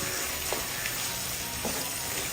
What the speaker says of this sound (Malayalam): ഒരു 30 സെക്കൻഡ് ഒന്ന് ഇളക്കി കൊടുക്കാം